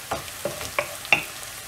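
Onions fry in a pan with a soft sizzle while a spoon scrapes and stirs them, giving several light, close clicks spaced unevenly over the hiss.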